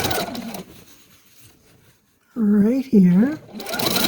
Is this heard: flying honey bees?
no